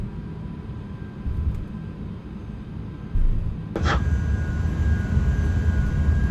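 Airbus A380 jet engines in Microsoft Flight Simulator 2020 spool up for a maximum-weight sunset takeoff from Singapore Changi runway 02L, a steady broadband roar that swells louder partway through, with no talking.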